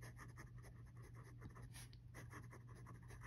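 Faint, steady scratching of a Sailor Pro Gear Slim Mini fountain pen nib on paper as it lays down an ink swatch, close and quiet with no talking.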